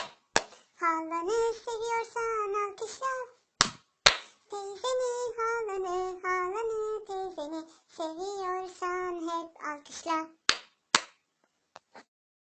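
Hands clapping in rhythm along to a Turkish children's song, the claps landing as sharp beats between sung phrases, with a few lone claps trailing off at the end.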